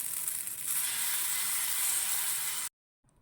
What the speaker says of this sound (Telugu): కొంచెం బ్యాటర్ తీసుకొని దాని మీద పెనం మీద చిల్లాలా వేసుకోండి